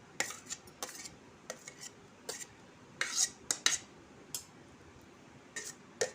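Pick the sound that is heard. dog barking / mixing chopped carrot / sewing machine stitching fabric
mixing chopped carrot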